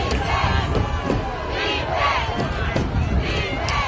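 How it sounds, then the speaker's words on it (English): High school football crowd at a Douglas County versus East Paulding game, a busy mix of shouting and cheering voices with bursts of yells rising and falling, loud and close throughout. "the crowd really is getting into it"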